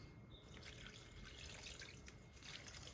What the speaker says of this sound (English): Then I water my tiny balcony plants.